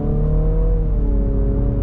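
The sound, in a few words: piped-in engine noise of a 2022 Infiniti QX55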